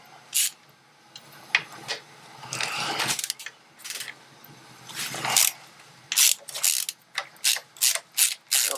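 A ratchet wrench loosening the forward control bolts on a Harley-Davidson motorcycle, with bursts of rapid clicking pawl strokes, some short and some drawn out, close up and clear with little else around.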